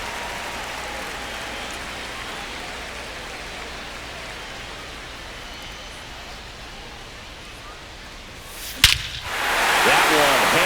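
Bat cracking a baseball for a two-run homer to center field in MLB The Show 25: a single sharp crack near the end cuts through steady stadium crowd noise, followed by a swelling crowd roar.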